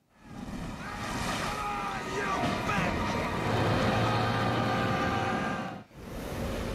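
Storm from the film The Perfect Storm, set in the North Atlantic with gale-force winds and 30-metre waves: a loud, continuous roar of wind and crashing surf that drops out briefly near the end.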